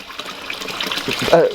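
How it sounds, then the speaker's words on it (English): Water splashing down from a stainless steel spillway on a garden pond filter box, a close, continuous watery gush and patter. "there is a lot of splashing going on"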